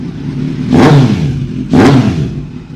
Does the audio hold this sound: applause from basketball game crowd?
no